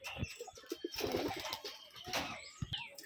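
Rajshahi Giribaj pigeons, large birds with heavily feathered feet, coo at a loft in a series of short throaty pulses, close and fairly clear, mixed with rustling and brief bursts of wing movement.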